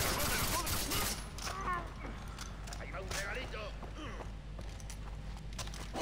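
Rapid bursts of gunfire in the video game Far Cry 3 crackle through the clip, loud at first and then continuing under steady talking.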